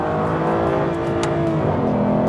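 An Aston Martin Virage driven hard on a dry track, its engine loud and close, revving and shifting pitch under braking and a downshift to second gear, with no talking.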